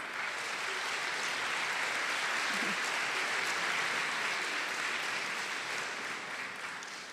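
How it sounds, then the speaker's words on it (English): Audience applause for kinesiology honor students at a nursing and health sciences hooding ceremony, a broad steady wash of clapping from a large crowd that swells and then slowly tapers. "Let us give a round of applause to our kinesiology honor students"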